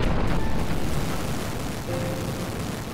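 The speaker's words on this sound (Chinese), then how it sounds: "爆炸了" A video-game explosion in the RPG Lisa: a loud, dense rumbling burst that rolls on for about three seconds, strongest at the start and slowly easing, with no voices.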